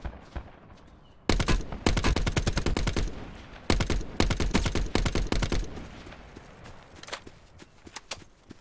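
Gunfire in the video game Blackout Beta: loud, close rapid-fire bursts of automatic shots in two long volleys, followed by sparser single shots and quieter thuds.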